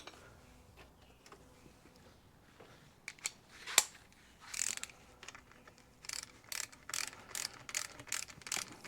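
Screws being tightened during a rebuild of a 1980 Suzuki RM 400 engine, faint clicks at first, then a run of sharp ratcheting bursts growing more regular toward the end, with no talk.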